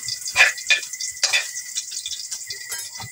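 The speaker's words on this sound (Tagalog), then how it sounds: "nilunod ko na yung bawang at saka sibuyas" Garlic and onion frying together in oil, a bright sizzle with a few louder bursts as they are stirred, close and steady without any voice.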